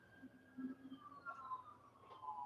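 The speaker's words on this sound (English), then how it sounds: "Well, now it's an ambulance." A faint, distant ambulance siren passes by, its wailing tone gliding slowly up and down in pitch under quiet background noise.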